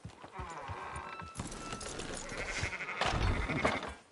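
Sheep bleating in the Red Dead Redemption 2 video game, several animals calling amid clip-clopping hooves and farmyard bustle, fairly faint and continuous throughout.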